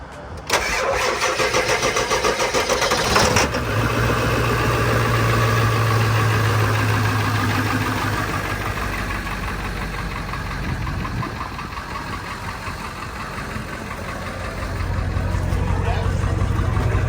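A truck engine cranks and fires up on a cold morning, then settles into a loud, steady, slightly rough idle that runs on close by, with a brief voice heard over it.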